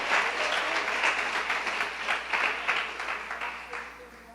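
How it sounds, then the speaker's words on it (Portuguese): A church congregation applauds in a dense, sustained wash of clapping that swells and ebbs slightly across several seconds, fairly loud and close. "Quem aplaudir, aplauda ao Senhor"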